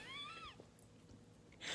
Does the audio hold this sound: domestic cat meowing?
yes